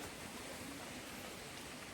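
Steady rain in a deep forest, a dense even hiss of drops on leaves and a shelter overhead, continuous and fairly soft with no other sounds standing out.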